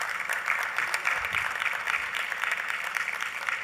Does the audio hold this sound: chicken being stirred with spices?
no